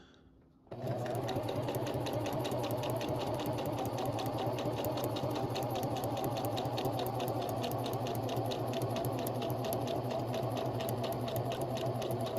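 A home sewing machine runs steadily while a beginner stitches a seam, a close, loud, continuous motor hum with rapid regular needle ticks, starting abruptly after a brief quiet moment.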